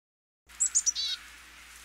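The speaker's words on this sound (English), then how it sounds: "Black-capped chickadee." A black-capped chickadee calls at a backyard feeder, giving three short, bright notes and then a buzzy trailing phrase, fairly faint and clear against a quiet background.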